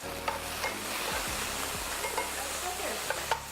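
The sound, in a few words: sweet potatoes and fresh garlic frying in a pan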